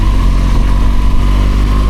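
A 2017 BMW R1200GSA motorcycle with an Akrapovic full exhaust idles steadily up close, a loud, even engine rumble with no talk.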